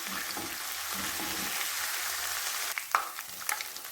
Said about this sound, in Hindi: मैं ये चिकन डाल के इसको फ्राई करती हूँ